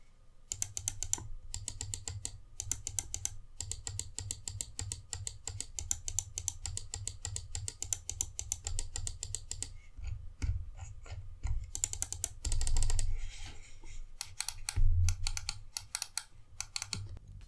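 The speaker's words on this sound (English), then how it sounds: "we have a noise sample of the buttons and switches of the mouse" Dream Machines DM2 Supreme gaming mouse buttons and switches clicking, rapid close-up clicks in fast runs and bursts, with a few heavier presses toward the end and no talk.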